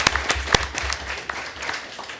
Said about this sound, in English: That also deserves a round of applause